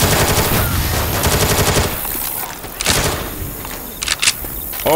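Gunfire in Left 4 Dead 2 aimed at a Boomer, loud rapid automatic bursts that thin into scattered single shots, with a voice shouting partway through.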